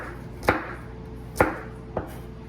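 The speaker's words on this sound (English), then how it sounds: "We'll just cut them like little circles." A knife slices through food on a cutting board into little circles, three sharp separate chops spaced unevenly, close and loud, with no talk.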